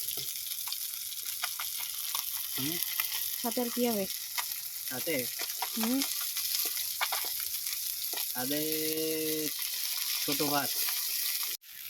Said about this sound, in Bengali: বাটির মধ্যে অনেকগুলো মাছ ভেজে ফেলেছে আর এখন এটা ভাজা করছে